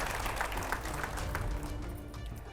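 A studio audience claps for arriving guests at a televised discussion, a dense, continuous wash of applause that stays fairly even and close throughout.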